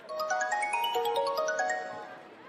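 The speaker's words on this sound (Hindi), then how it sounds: "फोन आ गया।" A bright electronic phone ringtone plays a quick rising and falling melody of chiming notes, clear and close, fading slightly at the end.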